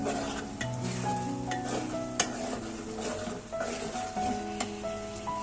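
Beef and chilli masala for haleem is stir-fried in a pot, giving quiet, continuous scraping and stirring with light sizzling and occasional utensil clinks, and no speech.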